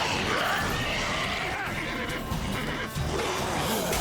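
Roach the horse neighs in the Witcher 3 video game, a loud, continuous whinny with clattering game sounds, while a person's voice is heard over it.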